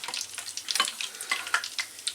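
Beer-battered mushrooms deep frying in hot oil during a second fry, with a busy, crackling sizzle of fine pops and bubbling, close and steady throughout.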